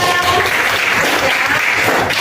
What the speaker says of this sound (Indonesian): tepuk tangan utama kita